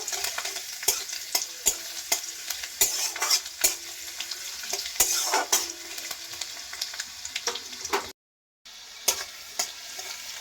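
Chopped garlic, black cumin seeds and a dried red chilli sizzle steadily in hot oil while being stirred, with frequent sharp scraping and clinking of a spatula against the pan, close and loud, briefly cutting to silence near the end.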